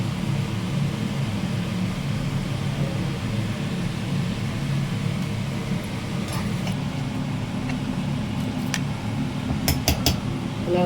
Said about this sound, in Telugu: చింతపండు, వెల్లుల్లిపాయ, జీలకర్ర, పచ్చిమిర్చి మొదటగా మిక్సీ చేసుకోవాలి.